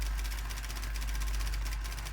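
Steady low engine drone in a dieselpunk engine room aboard the Iron Nest heavy turret, a continuous rumbling hum with a faint regular throb and no pauses.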